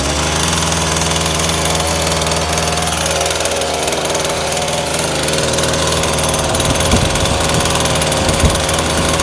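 A Titan chainsaw's small two-stroke engine runs continuously and loudly just after starting, a steady buzzing drone close to the listener, with slight shifts in pitch while it warms up.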